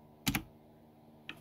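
A brief quiet burst of computer keyboard typing: two quick close keystrokes, then a single fainter tap a second later, in a quiet room.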